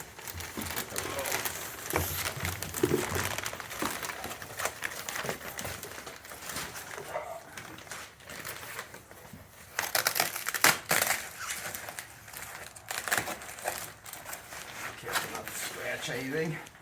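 Cardboard boxes and plastic packaging for motorcycle parts crinkle and crunch as they are opened, with irregular rustling bursts close to the microphone under steady talk.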